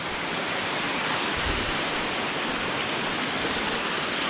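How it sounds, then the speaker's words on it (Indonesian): Clear river water rushes steadily along a forest road, a dense, continuous broadband roar with no break, close and fairly loud. "Lihat sungainya teman-teman, bagus."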